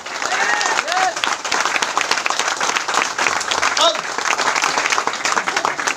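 Enthusiastic applause from a crowd at a company workshop training session, dense sustained clapping throughout with voices and cheers mixed in.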